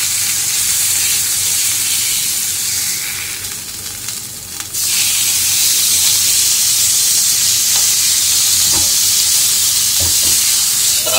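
Grass-fed beef steaks fry in a pan with a loud, steady sizzle that dips briefly in the middle and then carries on, with a few soft clicks over the hiss and no talk.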